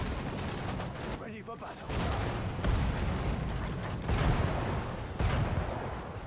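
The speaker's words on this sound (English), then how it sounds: "Machine gun oiled and ready. Let's chuck some nades." Dense machine-gun fire and grenade blasts from the Sudden Strike 4 strategy game roll on in loud, overlapping bursts with short lulls between volleys, and a voice line speaks briefly amid the battle noise.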